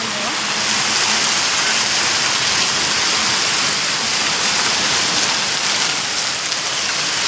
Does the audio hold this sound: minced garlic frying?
no